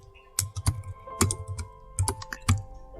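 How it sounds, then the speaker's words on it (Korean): Keys clattering on a computer keyboard in short bursts of several quick strokes, close and fairly loud, with brief pauses between bursts. "타자 딱 치는 소리 들리죠?"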